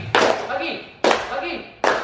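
Group hand clapping during a rhythm clapping game at a school literacy event, three sharp loud claps spaced about a second apart, each followed by a brief decaying echo, with voices heard between them.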